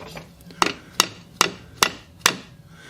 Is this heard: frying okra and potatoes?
no